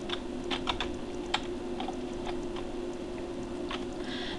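Keystrokes on a computer keyboard tap out in an irregular, moderately quiet pattern over a steady background hum, with no voices.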